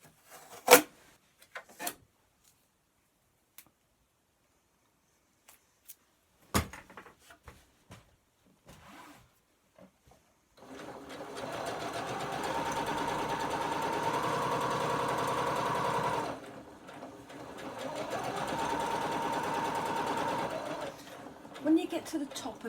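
A Butterick EB6100 sewing machine stitches a fabric garden cushion pocket, running steadily for several seconds, pausing briefly, then whirring on again after a quiet stretch of sparse handling noises.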